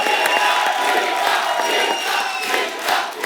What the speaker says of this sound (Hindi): जोरदार तालियां मिका पाजी के लिए